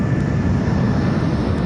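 Airliner flying near Heathrow, a steady low engine roar filling the clip without break, fairly loud and unaccompanied by voices.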